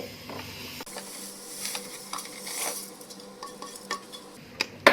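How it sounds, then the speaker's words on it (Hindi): Cumin and fenugreek seeds dry roasting on low heat in a pan for chilli pickle, stirred continuously with a metal ladle: soft scraping and rattling with faint sizzle, a few sharper clinks near the end, no talk. "गैस को बिल्कुल सिम पे रखना है और लगातार कड़छी चलाते ही इन्हें ड्राई रोस्ट करना है।"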